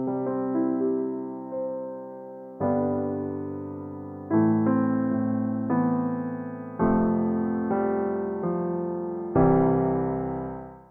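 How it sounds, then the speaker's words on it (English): FL Studio's stage grand piano preset, played on a MIDI keyboard, rings out about seven struck chords in steady succession, each decaying smoothly under the next, bright and close with no voices. "This one being the stage grand."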